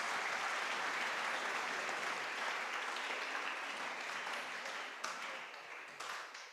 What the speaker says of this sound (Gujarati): આદરણીય દાદા અરુણભાઈ દવે, એમના માટે એક જોરદાર તાળી આપણે પાડીએ.